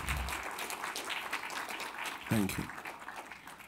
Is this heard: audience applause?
yes